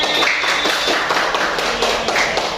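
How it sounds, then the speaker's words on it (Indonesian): Schoolchildren clapping together in a primary classroom, a close, loud patter of many hands with quick, uneven claps continuing without pause. "Tepuk tangan untuk kita semuanya"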